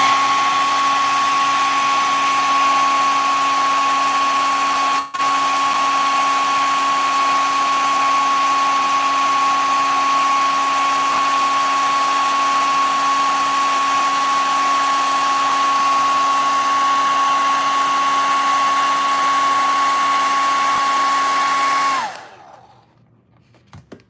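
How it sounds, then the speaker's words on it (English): A hair dryer blows steadily on acrylic paint to dry a coat on a Christmas flamingo painting, a loud constant whine running for over twenty seconds before cutting off. "let me grab my hair dryer"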